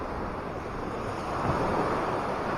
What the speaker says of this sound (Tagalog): Malakas ang alon yan